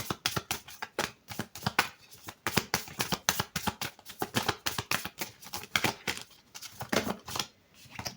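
Playing cards being shuffled and dealt out onto a surface in quick, crisp riffles and slaps, a steady run of close, dry snaps with short pauses, no voices.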